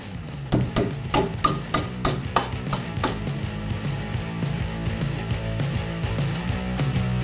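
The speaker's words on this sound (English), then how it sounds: "I'm going to hammer in 20 nails in the end of it" Hammer strikes driving nails into the end of a pressure-treated 4x4 wood post, a quick series of sharp metallic whacks close by, loud at first and then trailing into lighter, denser taps.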